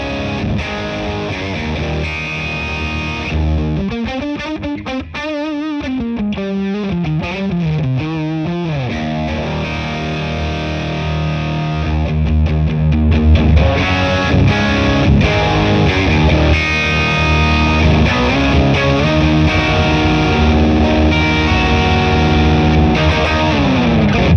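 An electric guitar runs cranked through a Marshall Origin amp head, giving thick distorted chords and bending lead lines that grow louder toward the end, played alone without talk.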